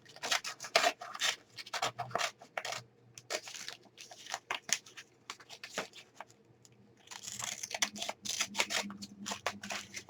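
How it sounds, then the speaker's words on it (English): Scissors snipping a picture out of a glossy magazine page, for making a stencil or mask, in repeated close, crisp cuts and paper rustles, with a quieter pause midway before the cutting resumes. "cut some of this out, just so I can see a little better"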